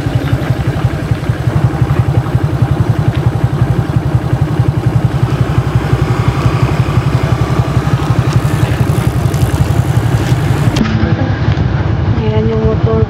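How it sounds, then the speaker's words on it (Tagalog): A motorcycle engine idles with a steady low chugging throb throughout, loud and close, with some clatter and faint background noise. "Ayan yung motor ko mga inday."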